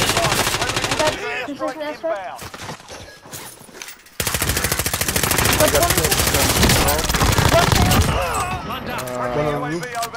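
Rapid automatic gunfire and repeated shots from a Warzone Rebirth battle royale match, loud and dense for most of the stretch with a brief lull, while players talk over the shooting.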